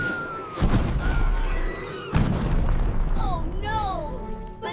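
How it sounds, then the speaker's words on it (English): In a 3D Minions animation, a rescue flare set off by roasting it like a bratwurst erupts in two heavy booming blasts, loud and close, followed by high cartoon whooshing and squealing tones. "a massive explosion sends the trio flying"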